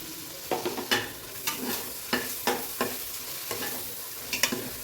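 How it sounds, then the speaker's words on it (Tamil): Mint and coriander sautéing in hot oil with onions for a mushroom biryani, a soft steady sizzle broken by repeated scraping stirs of a spoon in the pot, close and without talk. "பாருங்கள் இந்த ஆயிலே வதங்கட்டுங்க."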